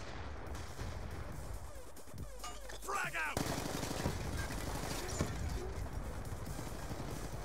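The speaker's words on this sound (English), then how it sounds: "Dude's trying to wallbang, but he doesn't know how to wallbang." Muffled, distant gunfire from Call of Duty: Black Ops 2 multiplayer, with shots fired through walls, forming a dense crackling rattle under a steady background hum.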